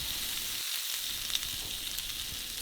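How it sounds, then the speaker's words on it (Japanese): Beef tenderloin sears in a heated, oiled frying pan, giving a steady, even sizzle that continues without a break at close range, with a faint tap partway through. "フライパンを温めて油をひいて、まず横の目側面を一周きっちり焼いていきます。"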